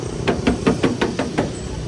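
Six sharp knocks on the hollow metal body of a four-door Isuzu D-Max pickup truck, evenly spaced about a quarter second apart, close and fairly loud with a slight resonant ring.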